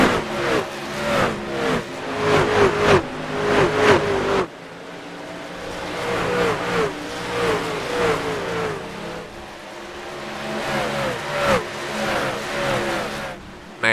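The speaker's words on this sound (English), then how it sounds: "A little flyby action." Race trucks roar past in quick succession at Phoenix in iRacing, engines rising and falling as each one sweeps by, loud and close with overlapping passes and brief lulls between groups.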